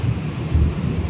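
Low rumbling thunder rolls continuously through a midnight thunderstorm with rain, a loud, steady low-frequency roar with no voices present.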